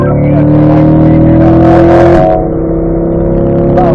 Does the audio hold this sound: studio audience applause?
no